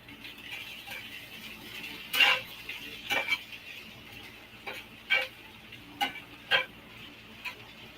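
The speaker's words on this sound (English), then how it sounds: "Y'all got to stir my okra." Spoon stirring okra in a cooking pot, a few sharp scrapes and clinks spaced a second or so apart over a faint background sizzle, close by with no speech.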